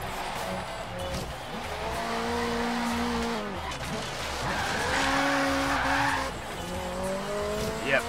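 A 1992 Toyota Celica ST185 slides onto grass in Forza Horizon 3, its engine droning under sustained tyre squeal and skidding noise that rises and falls over several seconds, with a faint voice underneath.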